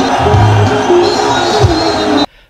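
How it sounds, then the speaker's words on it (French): Excited crowd at a public rally for Félix Tshisekedi's visit to the Kasaï region, a loud dense roar of voices with tonal shouts, cutting off abruptly near the end. "Le public déchaîné exulte"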